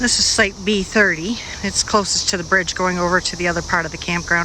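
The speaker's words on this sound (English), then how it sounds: "Can you hear the cicadas in the background?" A steady, high-pitched buzzing drone of a periodical cicada chorus hangs in the background at a Kentucky state park campground while someone talks clearly up close.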